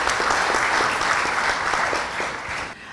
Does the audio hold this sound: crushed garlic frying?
no